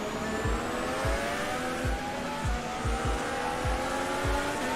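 Formula 1 cars racing at the French Grand Prix in the F1 2021 video game: a loud, continuous, high engine whine with repeated rhythmic thumps and overlapping cars passing close by.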